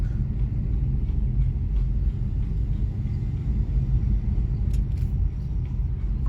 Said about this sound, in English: Got me a little traffic.